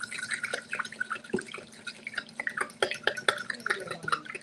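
A whisk clinks and taps quickly in a bowl of honey and olive oil, a faint, irregular run of light metallic ticks and wet stirring sounds close by.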